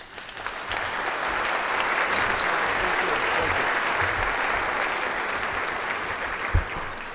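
A large business ethics awards audience applauding to welcome keynote speaker John Taft, a sustained, even wave of clapping that rises quickly and holds for several seconds before tapering.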